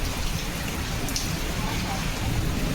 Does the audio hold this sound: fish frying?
no